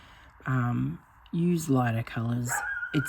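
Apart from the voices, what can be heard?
puppy barking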